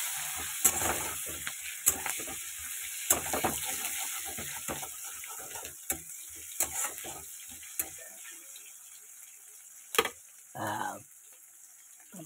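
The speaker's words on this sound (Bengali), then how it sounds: "পেঁয়াজটাকে আগে লাল করে একটু ভেজে নিই।" Chopped onions fry in a pan with a soft sizzle and spatula scrapes and clinks at intervals, fading quieter toward the end with a brief louder scrape.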